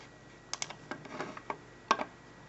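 Keys on a computer keyboard are typed in a short, sparse burst of soft clicks, close and quiet, with one firmer tap near the end.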